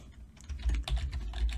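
Rapid typing on a computer keyboard, a dense run of clicky keystrokes with a few louder thumps, close and alone with no voices.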